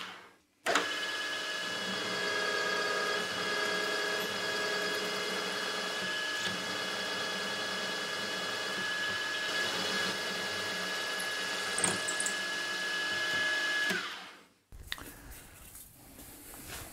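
A reground 8.7 mm carbide drill bores a dry test hole at 1,000 RPM on a machine, giving a steady whine with a sustained tone that runs for about fourteen seconds, then cuts off, leaving quieter machine noise.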